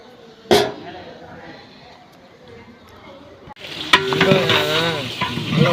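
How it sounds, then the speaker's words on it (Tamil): Onions are fried for mutton biryani in a Madurai cooking setup. A sharp clank comes first, then a loud, steady sizzle bursts in partway through with stirring scrapes, and voices are heard in the background. "வெங்காயம் பொன்னிறமாக வதங்கணுமா?"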